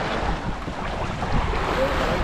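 Ocean waves splashing around a boat out at sea, a continuous loud wash of water and surf mixed with wind rumbling against the microphone, steady with no talk.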